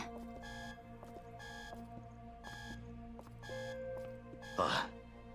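A repeating electronic alarm from the game Punishing: Gray Raven beeps in a steady on-off pattern of tones over background game music, with a brief burst of noise near the end.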